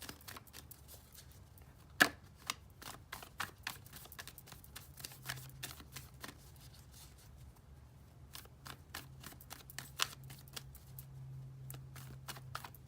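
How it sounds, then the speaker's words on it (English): Soft, rapid riffling and flicking of cards in irregular bursts, with occasional sharper slaps, quiet and close with a low steady hum underneath. "let's finish shuffling these cards"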